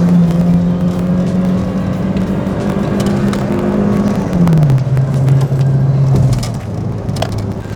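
A modified Honda Civic daily driver takes a corner, its engine droning steadily and close, then dropping in pitch as it slows partway through before settling into a lower hum near the end.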